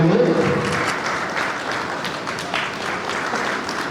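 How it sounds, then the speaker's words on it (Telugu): Audience clapping at a retirement ceremony, a burst of steady applause from a gathered crowd, moderately loud and continuous, with faint murmuring underneath. "అందరూ కూడా చప్పట్లు కొట్టి వారిని ఆశీర్వదించండి"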